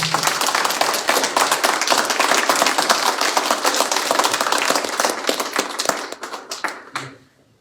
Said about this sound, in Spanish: Si lo creen, denle un aplauso al Señor.